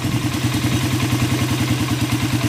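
A carbureted 2018 Suzuki Raider 150 motorcycle engine idles low, set to a low idle, with a steady rhythmic chugging pulse and a faint ticking clatter, close up and alone.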